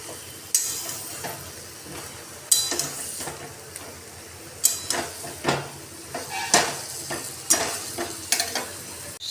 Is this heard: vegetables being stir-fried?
yes